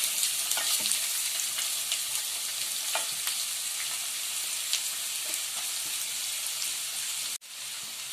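Finely chopped onion sizzles in a pan for a mushroom curry, a steady close frying hiss with small crackles and stirring scrapes throughout, ending in a brief cut near the end.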